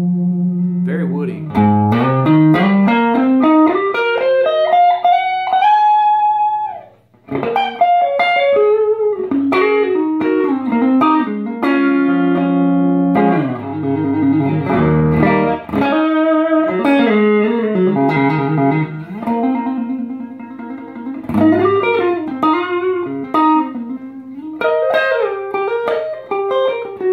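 A Johnston Telemaster electric guitar in lake placid blue nitro with a McNelly P90 neck pickup, played through effects in bluesy, woody single-note runs and chords, loud and continuous with no talk.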